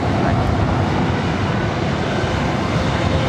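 Airliner taking off from LAX, its jet engines giving a loud, continuous roar close by that holds steady throughout, with no talk.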